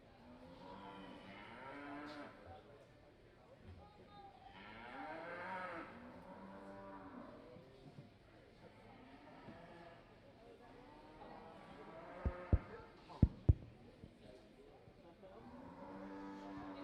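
Brangus cattle at a livestock show, mainly junior breeding heifers, lowing repeatedly in a large show ring with a few sharp knocks near the end and no talking.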